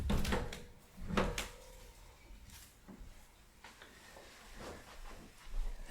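Double closet doors are opened in a bedroom, giving a few soft knocks and rattles of the panels with hushed rustling between, close and gentle.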